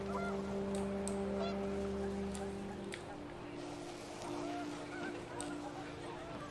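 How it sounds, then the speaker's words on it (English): Panicked geese honk in a windy outdoor scene in the video game What Remains of Edith Finch, repeated nasal calls over a steady wind and ambient rumble. "Wind picked up, and panicked geese appeared and quickly went."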